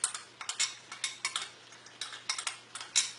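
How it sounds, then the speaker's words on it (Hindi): A spoon whisks yogurt in a bowl: quick, irregular metallic clicks and taps against the dish, close and clear, with no talking. "अच्छी तरह से फेंट लें दही को।"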